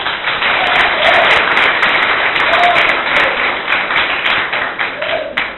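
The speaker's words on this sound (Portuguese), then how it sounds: "Palmas para o Senhor Jesus." A church congregation applauds steadily and loudly throughout, a dense wash of many hands clapping at once, with a few voices faintly audible underneath.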